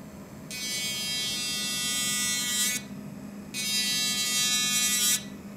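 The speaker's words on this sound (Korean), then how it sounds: "이거를 손톱에다가 갈아 보도록 할게요." An electric nail drill running at high speed grinds against a fingernail in two sustained whining bursts, each about two seconds long, separated by a brief lower-pitched idle hum.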